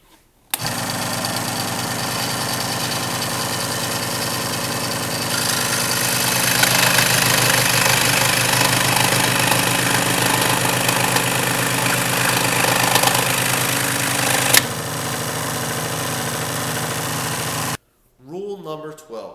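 A scroll saw runs steadily with a dense motor whine and blade buzz for about seventeen seconds, growing slightly louder midway as it cuts, then stops abruptly; a brief voice follows at the end.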